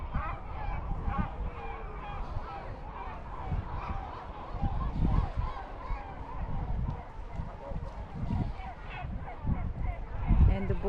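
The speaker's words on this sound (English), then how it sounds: "And the birds are fighting for the fish." Seabirds at the seaside in Skerries squawk and honk as they fight over fish, a busy continuous clamour heard amid people talking nearby.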